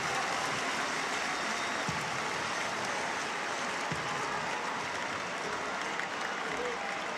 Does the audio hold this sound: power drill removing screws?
no